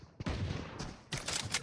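Gunfire in the tactical shooter Valorant during a competitive Game Changers qualifier match, two loud close bursts of rapid shots separated by a brief pause.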